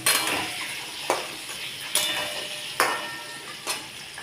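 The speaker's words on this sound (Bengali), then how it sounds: "আমার তেলটা গরম হয়ে গেছে। এবার আমি এর মধ্যে এক এক করে আলুগুলোকে একটু ভেজে নেব।" Potato pieces frying in hot oil, with a steady crackling sizzle throughout and several sharp clinks of a utensil against the pan at regular intervals; no talking.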